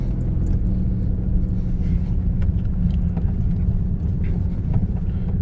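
A Pontiac Fiero engine running while driving, with misfires, makes a continuous low rumble with uneven, lumpy pulsing and faint road noise throughout.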